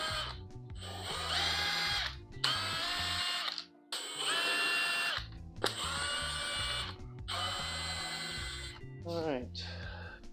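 A cordless power drill on a Kawasaki Ninja 500 motorcycle drives out Phillips screws from the airbox lid in repeated whirring bursts with short pauses between them, close by, while someone talks over it.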